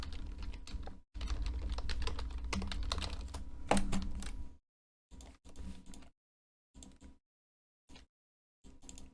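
Typing on a computer keyboard, close and dry: a steady run of key clicks for several seconds, then short separate bursts of keystrokes with silent pauses between them.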